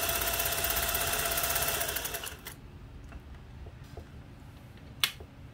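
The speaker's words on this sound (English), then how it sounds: "So let's start sewing." Singer 401A sewing machine stitching a zigzag, a rapid steady mechanical whirr with a fast repeating beat that runs for about two seconds, then stops and leaves quiet with a single sharp click near the end.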